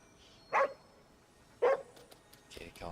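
Two short, clear dog barks sound a second apart in the video game Ghostwire: Tokyo, fairly close and moderately loud, followed by softer game noises and faint movement.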